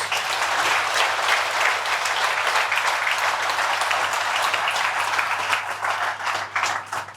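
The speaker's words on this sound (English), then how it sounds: "So give yourselves a massive round of applause." Staff at a monthly company meeting give a sustained round of applause, dense, even clapping from many hands lasting over seven seconds, with a slight swell near the end.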